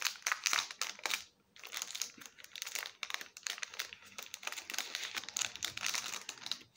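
A Nightmare Before Christmas package is opened by hand, with close, crisp crinkling and tearing of plastic and paper in irregular bursts and a brief pause near the start.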